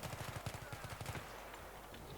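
Rapid automatic gunfire from shooting in Battlefield 3, a quick burst of about a dozen evenly spaced shots lasting a second, fairly faint, then fading to a low background hum.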